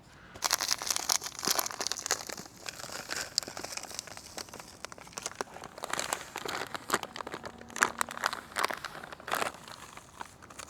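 Close, irregular crinkling and crunching of dry fishing groundbait being stirred and squeezed by hand in a small bucket, continuing in uneven bursts without any talk.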